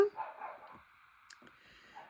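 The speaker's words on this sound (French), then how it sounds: "j'ai mon chien d'attaque hein, qui est devant la maison" A guard dog in front of a house gives a couple of faint, distant yips and whimpery barks against quiet room tone, with a few soft bumps afterward.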